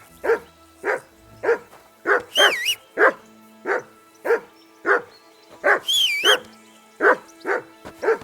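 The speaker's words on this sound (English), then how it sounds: "Whistle at that mutt of yours to stop barking!" A dog barks repeatedly in Kingdom Come Deliverance 2, about a dozen sharp, evenly spaced barks close by, two of them drawn into higher yelping whines.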